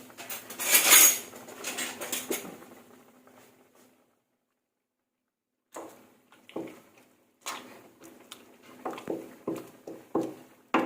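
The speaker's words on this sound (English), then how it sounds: "I'm pounding the tomatoes because I want the gravy to make it thick" Tomatoes pounded for a thick gravy alongside smoked beef with sesame and bitter eggplant, a loud burst of clattering strikes, a long silent gap, then a series of separate sharp knocks and taps close by.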